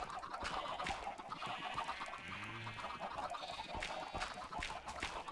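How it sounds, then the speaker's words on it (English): Chicken clucking in the Minecraft video game, a few short clucks and squawks scattered over several seconds amid soft clicking and background noise, fairly faint and without speech. "I found a chicken."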